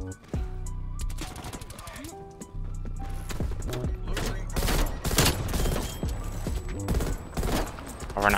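Gunfire in Call of Duty Cold War with an M16 class setup: rapid bursts of sharp shots and clattering impacts that grow denser and louder toward the end, with a player talking over the action.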